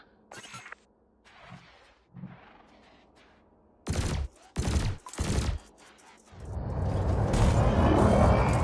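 Weapons open fire on canisters in a sci-fi combat video game, three loud sharp bursts of shots in quick succession followed by a sustained roaring blast, with quieter mechanical hums before.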